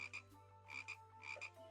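Frog croaks in a video game, three double-croak bursts spaced evenly over a steady low electronic hum, fairly quiet with no talking.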